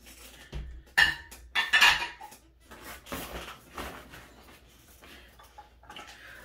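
Thrift-store ceramic plates are handled and stacked in sharp clinks and clatters, with a few bright knocks early on followed by softer scraping contact, close and uneven in rhythm.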